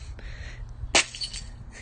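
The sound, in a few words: breaking ice in the morning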